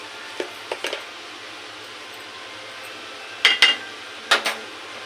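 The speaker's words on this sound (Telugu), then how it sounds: "ఇప్పుడు 2 స్పూన్లు కొబ్బరి పొడి వేస్తున్నాను" A metal spoon clinks against a cooking pan while coconut powder is added, a few light taps near the start and then two sharper clusters of ringing clinks, close and clear over faint kitchen background.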